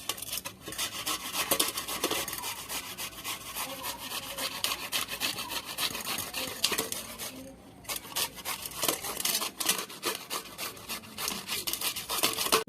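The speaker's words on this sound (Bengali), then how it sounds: "এখন আমি আমটা ঘষে নেব।" A mango rubbed against a grater in steady, fast rasping strokes, close and continuous, with a brief pause partway through.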